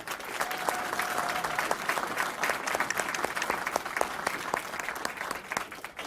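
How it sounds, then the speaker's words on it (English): A large audience claps in sustained, steady applause throughout the hall at a DreamWeek summit event in San Antonio, dense and even from start to finish with no talking on top. "give a round of applause to DreamWeek LLC and to Mr. Sho Napodia for the work"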